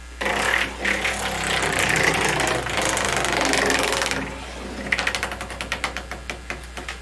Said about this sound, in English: Time for the Wheel of Fun.